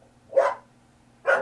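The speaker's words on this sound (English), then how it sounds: "My dog." Two short barks from a pet dog, spaced about a second apart, fairly close and moderately loud over a faint background hum.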